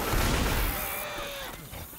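A burst of gunfire from the video game Left 4 Dead 2 rattles loudly, then fades into quieter game sounds.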